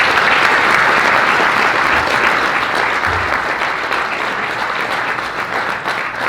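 Loud, dense applause from a large audience honoring Chris Vaccaro at a Long Island Journalism Hall of Fame induction ceremony, sustained and even, easing slightly toward the end.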